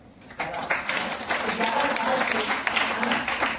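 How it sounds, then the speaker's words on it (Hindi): Audience applause in a Hindi motivational talk, dense clapping starting after a brief quiet moment and continuing steadily, fairly loud with some voices mixed in. "इसलिए ताली बजा सकते"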